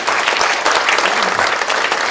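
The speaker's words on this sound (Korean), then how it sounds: "여러분 뜨거운 박수 부탁드립니다" A lecture audience bursts into loud, dense applause for a guest monk speaker, the clapping close and continuous with no pause.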